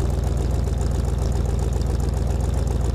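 A Ford 302 V8 fitted with a new cam idles steadily on its own, its exhaust giving a deep, even, loping rumble that stays close and constant throughout.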